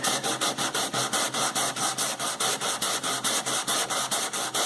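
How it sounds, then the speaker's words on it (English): A 220-grit sanding block worked back and forth along the grain of a painted interior door, giving a steady rhythmic rasping scrub of about four to five strokes a second, close and loud, with no talk. "I think you want to sand with the grain"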